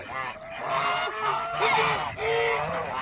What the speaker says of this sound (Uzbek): Bitta oddiy g'oz bor, o'sha oq oddiy g'oz.